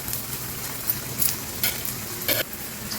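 Halwa bobbatlu frying on a pan with ghee poured around the edges, giving a steady close sizzle with a few brief louder crackles.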